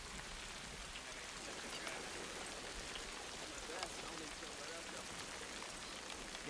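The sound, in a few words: rain falling in a TV war drama scene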